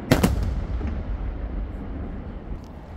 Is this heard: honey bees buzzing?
no